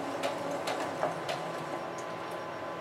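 A sewing machine back-stitches a fabric seam inside the seam allowance, stitching forward and back: a steady, close mechanical whir with faint rapid ticking running throughout.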